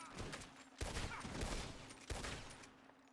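Gunfire in Red Dead Redemption 2 crackles in a few sharp, close bursts over a steady background rumble, fairly faint overall.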